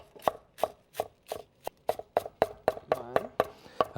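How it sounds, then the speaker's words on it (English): A knife chops coarsely through fresh garden herbs (tarragon, chervil and basil) on a cutting board, giving about a dozen crisp, evenly spaced thuds at a steady rhythm, close and clear, with a brief voice in the middle. "So I'm going to cut that coarsely."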